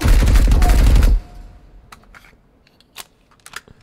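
Gunfire from a compensator-fitted gun in the Marauders video game, a loud rapid burst of automatic shots lasting about a second, followed by quieter scattered clicks and faint distant sounds.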